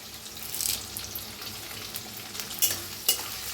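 Peanuts and curry leaves frying in a pan for stuffed chillies, a steady close sizzle with stirring scrapes and a couple of sharp spatters.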